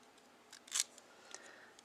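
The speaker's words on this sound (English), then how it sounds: "And then I just took my jaggedy edge scissors," Jagged-edge scissors snip through polymer clay in a few quick, soft, close cuts, faint and crisp in an otherwise quiet room.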